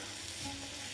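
Shawarma frying in a pan while being stirred, giving a steady, even sizzle for a brief moment with no voices.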